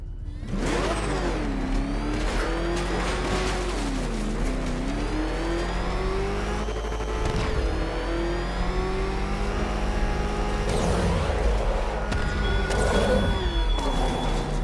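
The Batmobile roars through Batman Arkham Knight, its engine revving up and down in sweeping pitch changes with bursts of acceleration and whooshing passes, loud and continuous without speech.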